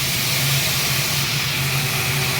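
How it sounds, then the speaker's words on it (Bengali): Diced potatoes frying in a pan with turmeric give a close, steady hissing sizzle that runs evenly throughout with a low background hum and no talk. "ডুমো ডুমো কেটে রাখা আলুটা দিয়ে দিলাম আলুটা দিয়ে বেশ ভালো করে ভেজে নিলাম ভাজা ভাজা করে নিলাম"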